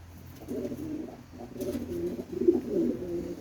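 Domestic pigeons in a loft give soft, low, rolling coos in a few overlapping bursts, moderately close and fairly quiet, with no talking.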